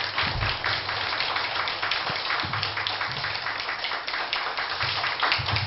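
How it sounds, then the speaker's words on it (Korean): An audience at a lecture hall claps for a professor after his public lecture; a continuous patter of many hands at moderate level with a few louder individual claps, no talking over it. "여러분 큰 격려의 박수 한번 부탁을 드립니다"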